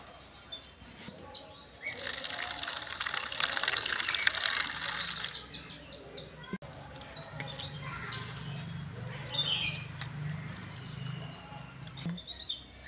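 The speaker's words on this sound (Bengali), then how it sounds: "চিঁড়েটাকে ভালো করে ধুয়ে নেব।" Half a cup of thin flattened rice (chira) is swished and rinsed in water by hand, a close, steady splashing and sloshing that swells, eases briefly, then continues with lighter trickling.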